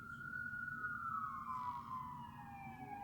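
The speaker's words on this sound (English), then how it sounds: "We have a lot of sirens right now" Emergency vehicle siren wailing outside, a faint, distant tone sliding slowly downward over a low background rumble.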